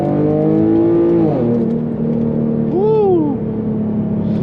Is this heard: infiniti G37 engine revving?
yes